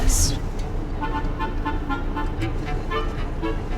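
Small airport tug vehicles run nearby, a continuous rumbling engine and road noise with a short toot at the start, and someone talks over the traffic.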